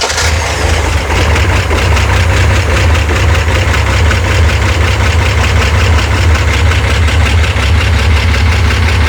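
A freshly rebuilt FC rotary engine idles loudly and steadily up close, its low, rapid pulsing drone unbroken throughout.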